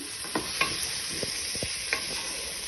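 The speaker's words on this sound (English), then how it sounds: "Then you'll give that a good stir" A spoon stirs cumin and spices in a hot pan for prawn jambalaya, with a soft sizzle underneath and a few scattered scraping clicks against the pan.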